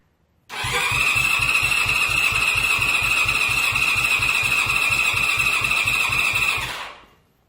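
A Honda CB550 motorcycle engine cranks over on the starter for a compression test with the throttle held wide open, a steady rhythmic chugging with a whining starter tone lasting about six seconds before stopping abruptly.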